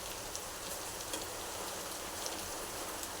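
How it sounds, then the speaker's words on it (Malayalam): Heavy rain falls outside a home kitchen while sardines are being fried, a soft, even patter with faint scattered drop ticks, quiet and steady, no voices. "മഴ പെയ്തുകൊണ്ടിരിക്കുകയാണ്."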